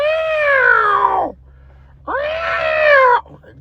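A cat screaming in distress at a veterinary clinic, two loud, long, wailing cries with a falling pitch, separated by a brief pause, close and intense.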